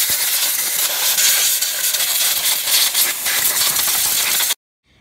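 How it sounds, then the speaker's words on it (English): Compressed air blasts loudly and continuously around the coil pack boots of a Ford 1.5L EcoBoost engine, a close, steady hiss that cuts off abruptly at the end. "So let's use some compressed air like this."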